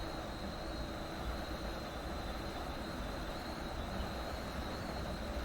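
A train running with the windows open in Train Sim World 2, on a Boston commuter route, producing a steady, dense rumble of wheels and track with a thin high squeal held on top, continuous and close with no talking.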